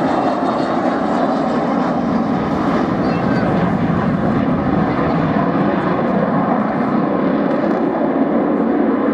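A delta wing jet aircraft roars loudly and continuously as it flies at the Yeovilton air show, a broad steady engine noise with a voice talking over it.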